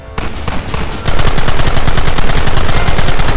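Rapid automatic gunfire in the Western shootout game Red Dead Redemption, loud and close, starting with a short burst, then a dense continuous machine-gun rattle of evenly spaced shots.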